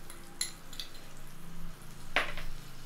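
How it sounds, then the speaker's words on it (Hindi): Yogurt being stirred into tomato masala frying in a pan over a low gas flame for chole, with a soft steady sizzle, a few light utensil clinks and one sharper scrape against the pan. "और दही को भी अच्छी तरह से चलाते हुए मिला लेते हैं।"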